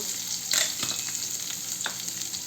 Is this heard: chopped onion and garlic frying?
yes